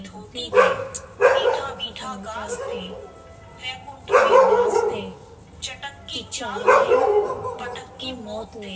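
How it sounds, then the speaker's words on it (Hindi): Several dogs bark and yip repeatedly in the background while a woman chants a devotional Hindi prayer, so the barks come in sharp bursts under her steady recitation during a Kartik month puja. "कुछ कुत्ते बहुत भौंक रहे हैं हमारे यहाँ"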